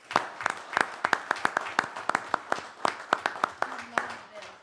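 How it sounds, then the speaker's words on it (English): Clapping for an engineering department intern at a city council work session, a steady run of sharp hand claps from a small group, fairly close, ending after several seconds. "So I want to give her a round of applause."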